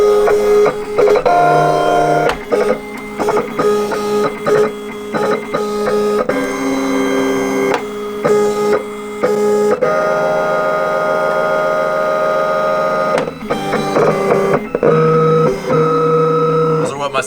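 A vinyl cutting machine cuts a decal from Oracle 651 vinyl, producing loud, close, steady tonal whirring that shifts pitch in stepped segments as the carriage moves, continuing without pause throughout.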